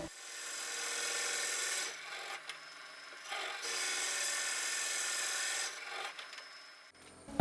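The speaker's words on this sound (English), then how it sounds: "I make several circles with a skew chisel to provide for more rugosity." A skew chisel cuts circles into spinning wood on a lathe while turning a gavel and block, producing a steady, close, hissing scrape in two long passes separated by short breaks.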